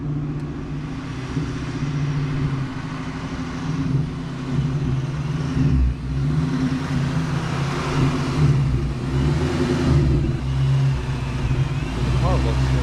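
A NewEdge Ford Mustang's engine rumbles and revs in low, throaty swells, fairly close, while people talk over it.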